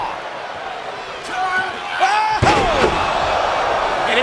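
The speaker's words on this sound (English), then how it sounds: "here's Edge after planting Benoit" A wrestler slammed onto the ring mat during a 2002 SmackDown tag match, a single sharp heavy thud about midway, with an arena crowd and voices around it.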